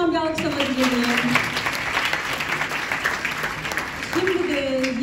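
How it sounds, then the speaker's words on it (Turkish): A seminar audience gives a sustained round of applause, dense and steady clapping from start to finish, with a speaking voice over it at the beginning and again near the end. "Sales Master Meryem Okutan'a konuşmasından dolayı kocaman bir alkışlama diliyorum."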